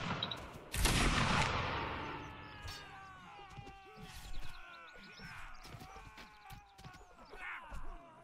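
Sharp musket volleys at a Waterloo battle reenactment, one loud close crack followed by scattered further shots and a crowd of voices and shouts in the background.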